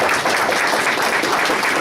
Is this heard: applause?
yes